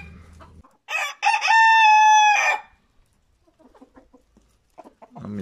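A rooster crows once, loud and close, a long drawn-out call, followed by quieter clucking and scratching nearby, as new roosters settle hierarchy in a flock.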